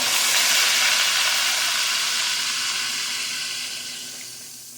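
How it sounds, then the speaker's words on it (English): Water poured into a hot pan of browning pork loin ribs, a loud broad hiss and sizzle that gradually fades over a few seconds, with no talking. "Now I'm going to pour water over them."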